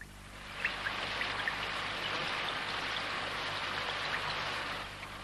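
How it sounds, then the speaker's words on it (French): Steady, dense rain pours down in a continuous broad hiss, moderately distant and even, with faint scattered drops and no voices. "qu'est-ce qui tombe avec cette pluie?"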